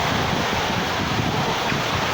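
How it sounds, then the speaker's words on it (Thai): Strong wind gusting across a raft on open water during a storm, a continuous loud broadband roar with buffeting on the microphone and wave wash beneath, steady throughout with no voices. "โอ้ยลมแรงจริง"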